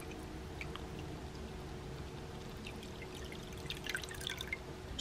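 Water poured back into a moon jellyfish tank, a soft continuous trickle with scattered drips and splashes that build slightly toward the end, quiet and close over a low steady hum.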